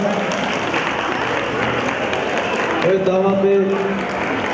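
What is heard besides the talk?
wedding guests applauding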